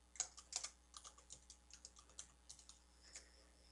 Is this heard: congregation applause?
no